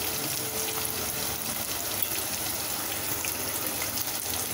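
Onions sautéing in a pan for tomato biryani give a steady, dense sizzle and hiss that stays at an even level for the whole stretch, with no voices over it.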